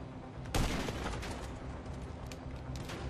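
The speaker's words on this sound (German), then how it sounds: "Ich schieße gerade eben auf die Autotür und das wiederholt." In GTA V Online, shots are fired at a metal car door: a sharp loud burst opens the stretch, followed by dense rattling gunfire and impacts that continue steadily at close range.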